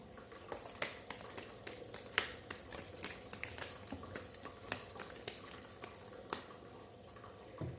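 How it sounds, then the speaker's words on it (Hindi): Angel oracle cards being shuffled, a soft papery patter of quick riffling flicks and taps that runs steadily throughout, close and quiet with no talking. "this is my last shuffle"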